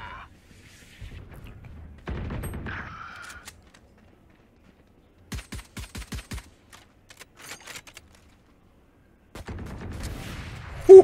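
Gunfire in the video game Valorant: a rapid burst of sharp shots in the middle, scattered single reports and game effects around it, with a loud crack at the very end.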